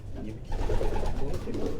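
Racing pigeons at a loft cooing in soft, throaty, rolling bursts close by, with a low rumble of background noise underneath.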